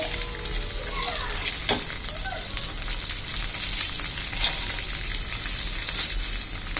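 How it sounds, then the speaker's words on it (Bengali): Boiled eggs frying in oil in a wok (kadai), giving a steady, loud sizzle throughout with occasional scraping and stirring clicks of a utensil close by. "ভালো করে নেড়ে ছেড়ে ভেজে নিচ্ছি।"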